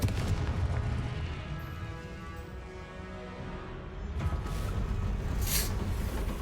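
Confringo fire-blast spell cast in the Hogwarts Legacy video game, heard as dense, rumbling booms that roll continuously and loudly, with no voices over them.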